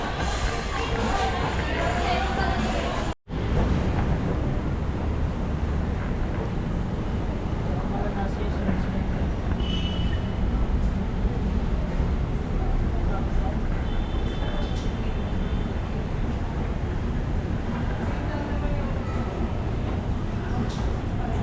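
A light rail train on Manila's LRT Line 2 rumbles steadily along with broad, continuous noise throughout, a brief cut near the start, and occasional faint squeals and background chatter.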